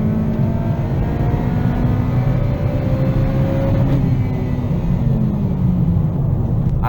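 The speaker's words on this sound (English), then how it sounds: "full throttle, and you'll see it starts to take off at VTEC right there." An 8th gen Honda Civic Si pulls at full throttle into VTEC, its engine note climbing steadily in a loud, continuous rising drone heard from inside the car.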